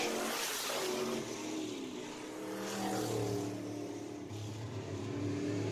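Race cars at Deep South Speedway run single file down the back straightaway, a steady loud engine drone with swelling revs as the pack passes, under faint commentary.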